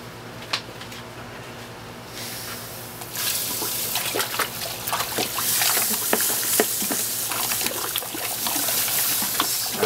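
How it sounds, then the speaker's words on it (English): Grains being stirred into hot mash water at about 171 degrees during the dough-in for a Falconer's Flight IPA home brew, giving close, irregular sloshing and splashing with scattered wet clicks that grow fuller after the first few seconds. "So let's go ahead and mix in our grains"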